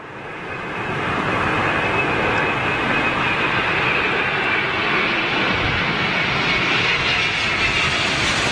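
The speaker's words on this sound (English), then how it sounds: "British Airways Dreamliner, here we go." A British Airways Boeing Dreamliner jet landing at windy Heathrow makes a loud, steady broadband roar that swells in over the first second and holds strong throughout, with no voices.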